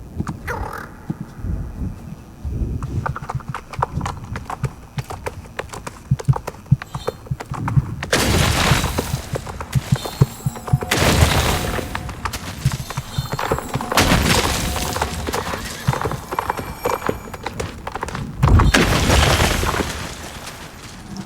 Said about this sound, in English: Let's start by destroying these fragments.